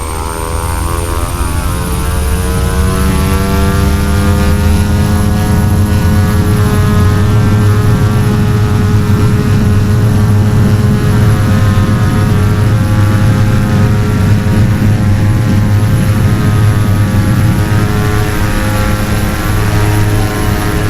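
Twin Pratt & Whitney Canada PT6A-67R turboprops of 1,424 shaft horsepower each powering up in the X-Plane flight simulator, a loud, steady propeller drone with layered engine whine held throughout.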